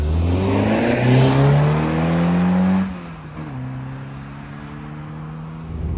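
A 1987 Peugeot 205 GTI 1.9 drives along, its engine note rising as it accelerates, then dropping off on a shift before picking up again, heard from close by.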